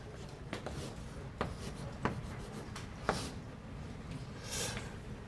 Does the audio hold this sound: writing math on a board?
yes